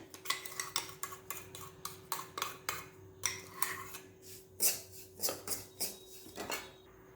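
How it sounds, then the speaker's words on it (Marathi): Rhythmic scraping and clinking of a utensil stirring and sautéing in ghee in a pan over low heat while making rice and jaggery kheer, steady strokes close by with no one talking. "आता याच तुपामध्ये हे परत परतून घ्यायचं आहे"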